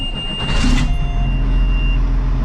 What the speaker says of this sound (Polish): ryczek 480 koni, od razu można rozpoznać ten dźwięk tego silnika